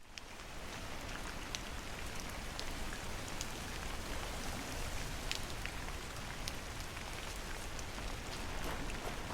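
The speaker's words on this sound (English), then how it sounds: "Damn this pissing rain." Steady rain pours down in the video game Norse Oath of Blood, a dense, continuous hiss of drops striking surfaces with scattered sharper ticks, alone without voices.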